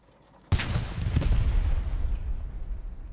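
A Panzer IV tank gun fires in the WWII video game Post Scriptum: one sudden heavy boom followed by a long rumbling roll that fades slowly, loud and close.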